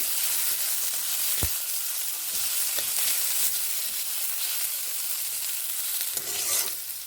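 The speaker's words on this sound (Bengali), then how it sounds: "এইভাবে তেলেই এই ডালগুলোকে ভালো করে ভেজে দিচ্ছি" Mung dal stirred and fried in hot oil, a dense continuous sizzle with occasional scraping and a sharp utensil knock, close and without speech.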